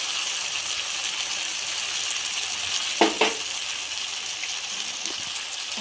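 A spoonful of ghee sizzles in a frying pan while a Bengali mixed-vegetable and fish-head ghonto is cooked, giving a steady hiss with two sharp utensil clinks near the middle.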